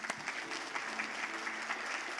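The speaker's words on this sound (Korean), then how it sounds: "우리 박수로 한번 환영하겠습니다" A church congregation applauds to welcome back a choir member recovering from major surgery, a steady, even wash of clapping from many hands throughout, with no talk over it.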